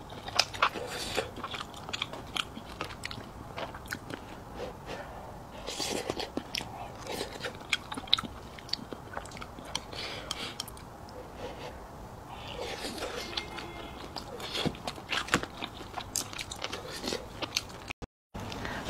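Someone bites and chews freshly fried, crispy food coated in crisp frying batter, with repeated close crunches and chewing sounds in irregular bursts, fairly quiet overall, and a few soft murmured words between bites.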